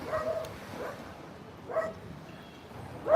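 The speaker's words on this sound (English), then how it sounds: "This dog barking." A dog barks three times at spaced intervals, each bark short and moderately distant, over a low, rumbling background.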